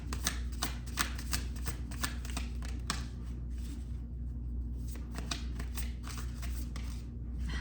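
A deck of tarot cards is shuffled by hand close up, a fast run of crisp riffling flutters and taps repeating steadily for several seconds over a low room hum.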